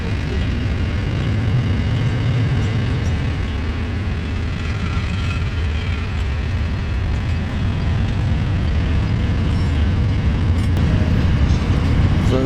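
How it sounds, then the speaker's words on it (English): A loud, continuous rumble of a long freight train rolling past close by in rural Western Australia, steady and unbroken throughout, with a low clattering roar and no break in the noise. "Look at the length of this bloody train."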